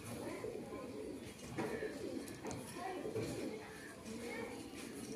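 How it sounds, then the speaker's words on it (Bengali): Andhra breed pigeons coo softly and repeatedly in a low, steady murmur, close by, with background noise and a voice mixed in throughout. "দেখুন পায়রাটা দেখাচ্ছি।"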